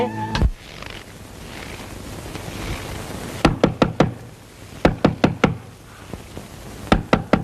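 Knocking on a house's back door, sharp knuckle raps in quick clusters of four or five, repeated three times with pauses, close and clear over a low background hum.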